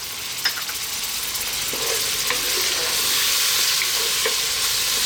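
Tomatoes with salt, pepper, turmeric, cumin and green cardamom powder sizzle steadily in a pan for chicken kabsa, a constant frying hiss broken by a few soft stirring scrapes, with no talk.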